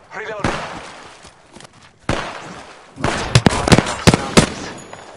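A frag grenade goes off in the battle royale shooter Apex Legends amid sharp bursts of gunfire and impact bangs, loud and close in a busy fight.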